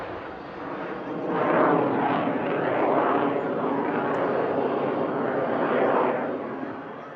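Display aircraft pulling up at RAF Cosford air show, a loud, steady broadband engine roar with slow swelling passes, heard from a distance with crowd-level ambience.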